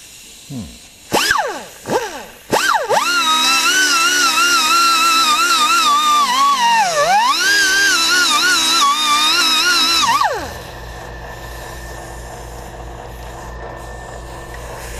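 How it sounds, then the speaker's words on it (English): An angle grinder with an abrasive attachment works on a car fender for welding prep: a loud, sustained whine close by for about seven seconds, wavering and dipping in pitch as the disc loads, after a few short revving bursts, then spinning down into hum. "Handy little angle grinder with, forget what you call this, but it's kind of an abrasive attachment."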